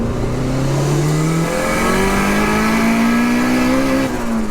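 A 370bhp VTEC turbo Mini accelerates hard in second gear on low boost, its engine note climbing steadily and loud from inside the car, with a brief dip near the end as the revs shift.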